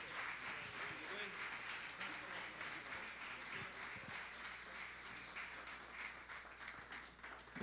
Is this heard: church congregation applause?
yes